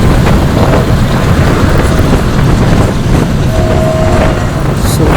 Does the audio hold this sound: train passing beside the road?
yes